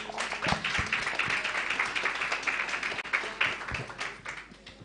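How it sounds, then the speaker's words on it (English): An audience at the launch of a girls' empowerment initiative gives a round of applause, scattered, fairly soft clapping from a moderate distance that thins out toward the end. "A resounding round of applause."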